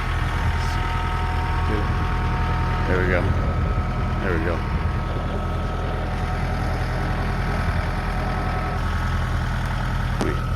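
A farm tractor engine idles and chugs steadily while being pushed up a hill, a constant low rumble under short bursts of talk from nearby people.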